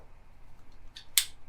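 A quilt block is trimmed along a Creative Grids Skinny 10-inch Curvy Log Cabin trim ruler, with two quick, crisp cutting swipes close up after near silence.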